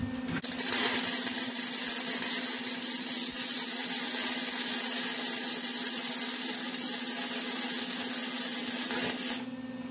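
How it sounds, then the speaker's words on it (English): Welding on the roll bar of a 1955 Chevy gasser gives a steady, close electric buzz with a constant crackling hiss that runs unbroken for about nine seconds, then cuts off abruptly near the end. No one speaks. "we'll go ahead and finish welding that off."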